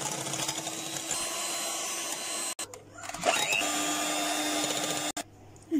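Double cream and granulated sugar being whipped with an electric mixer until thick, a steady motor whine with a tonal hum, briefly cut off twice and changing pitch as the beaters work the cream.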